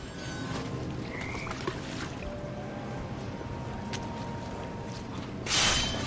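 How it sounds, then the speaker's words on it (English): Toads croaking in a video game, faint low croaks scattered over a murky ambient bed, ending in a short louder splash-like burst, with no talk. "And toads."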